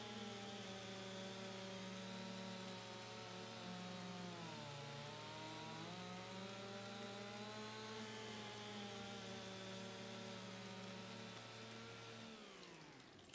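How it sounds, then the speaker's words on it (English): A chainsaw in a farming video game cuts wood with a sustained buzzing drone that wavers in pitch midway, then stops abruptly near the end. No one speaks over it. "Boy, that chainsaw animation is wild."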